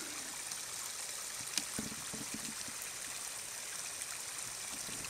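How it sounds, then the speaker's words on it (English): A forest stream flows among cedars, giving a constant soft trickle and babble of water with faint irregular splashes and no voices. "Yeah, these are pretty cool places when you find the streams"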